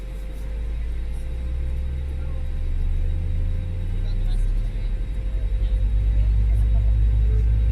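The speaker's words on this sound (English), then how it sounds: "I'm going to be quiet during engine startup. You guys enjoy the sounds" An Airbus A320 (FlyByWire model) starts its engines in Microsoft Flight Simulator: a steady low hum and a thin tonal whine, with rumble building and pulsing rhythmically toward the end.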